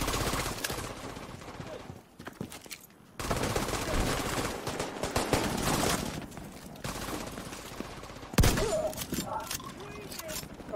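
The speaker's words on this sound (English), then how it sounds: "Okay, that's a friendly turret." A friendly automated turret in The Division 2 fires rapid bursts of gunfire, loud and near, in dense volleys with brief pauses, while other weapons and combat noise crowd around it and a voice talks over the shooting.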